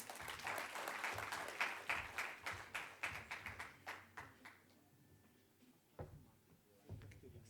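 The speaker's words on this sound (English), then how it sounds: "Shall we please give them a round of applause?" A small audience at an agricultural event claps in a round that starts dense, thins into separate claps and fades, leaving a few scattered claps and knocks near the end.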